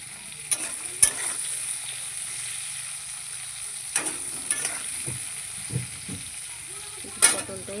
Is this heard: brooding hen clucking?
no